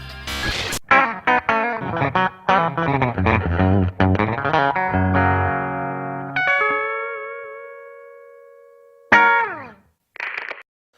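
An electric guitar runs straight through a bypassed Dunlop '76 Vintage Dynacomp compressor pedal. A quick run of plucked notes gives way to sustained ringing chords that decay, followed by a couple of short strums.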